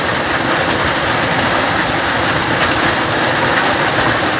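Heavy hail and rain pour down after months without rain, a loud, unbroken roar close by, dotted with scattered sharp ticks of hailstones striking.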